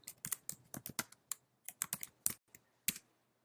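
Someone types on a computer keyboard in quick clusters of crisp, close key clicks, pausing briefly between bursts, in an otherwise quiet room.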